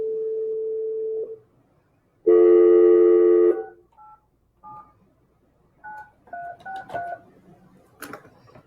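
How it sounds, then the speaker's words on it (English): A phone number is dialed on a telephone to call a cell phone: a long tone, then a loud sustained tone, followed by a run of short, quieter keypad beeps at uneven intervals, with no talking. "let's just call his cell phone"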